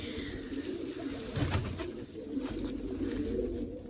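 Pigeons coo steadily and close by in a loft holding forty-five to fifty birds, soft throaty calls overlapping throughout with faint rustling and no talk.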